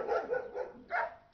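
A German shepherd police dog at a police canine centre barks three times in close succession, loud and near, with no talk over it.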